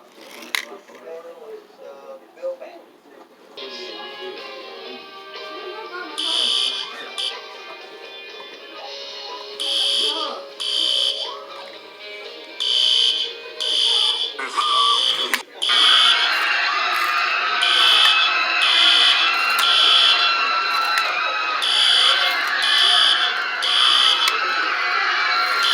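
School fire alarm ringing in repeated pulsing bursts, then sounding steadily and loudly, with voices talking over it in the first part.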